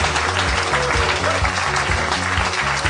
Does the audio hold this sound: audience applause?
yes